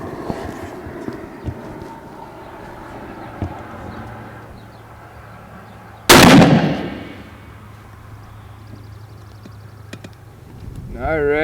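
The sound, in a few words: Savage 220 firing a round downrange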